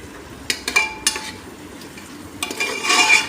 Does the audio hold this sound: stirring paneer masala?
yes